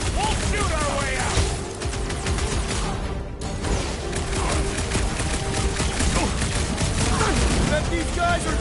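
Gunfire erupts in a sci-fi shootout aboard a space station, with rapid, dense volleys of shots and blasts layered over one another, close and loud, while voices shout through the barrage.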